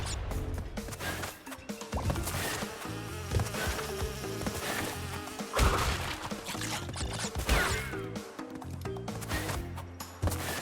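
Bees buzzing in Crash Bandicoot 2: Cortex Strikes Back, a busy insect drone layered over the game's music and sound effects, with thwacks and crashes breaking in throughout.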